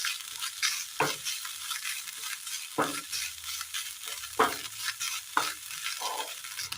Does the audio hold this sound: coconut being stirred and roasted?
yes